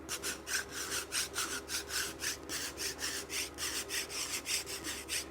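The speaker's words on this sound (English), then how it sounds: "Now I'm going to scrape that mark off in long strokes." Wooden arrow shaft scraped in long, even strokes to remove a pencil mark, a soft rhythmic rasping repeated about twice a second, close and quiet with no talking.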